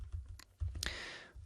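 A few scattered keystrokes on a computer keyboard, close and fairly quiet, as code is typed in for a statistics lecture, with brief pauses and a soft exhale between taps.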